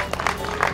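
Audience clapping at a bass fishing tournament greets an angler from Turlock, California, with steady dense applause from a nearby crowd throughout the short moment.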